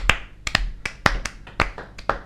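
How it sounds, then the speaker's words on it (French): A few people clapping in tribute to the late actor Christopher Lee, sharp separate claps in a loose, uneven rhythm, close and fairly loud. "il faudrait applaudir Christopher Lee"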